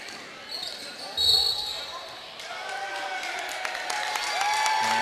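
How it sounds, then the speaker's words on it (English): Elmhurst College fans give a sarcastic round of clapping in a gym during a men's basketball game against Carthage, a modest spread-out patter mixed with crowd murmur, shoe squeaks and commentary. "A whistle going against Carthage with a mock round of applause from the Elmhurst fans"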